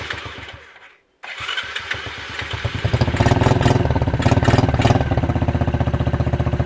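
A Chinese 50cc quad is cranked by its electric starter, with a short whirring churn followed by a brief gap. The engine then catches and settles into a loud, steady, rapid put-put idle close by.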